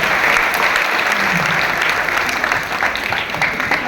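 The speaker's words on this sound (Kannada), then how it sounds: "ಒಮ್ಮೆ ಜೋರಾದ ಚಪ್ಪಾಳೆ ಬರಲಿ" Audience applause at a dance festival in Dandeli, where a dance teacher is honoured: a loud, continuous wash of many hands clapping fills the hall, steady and close throughout with a faint crowd murmur beneath.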